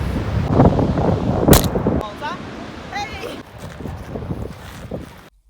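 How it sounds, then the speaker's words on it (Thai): Strong wind along Australia's Great Ocean Road coast roars and buffets the microphone, loud and close, with gusting noise and a brief voice partway through before it cuts off. "ลมแรงจริงเลย"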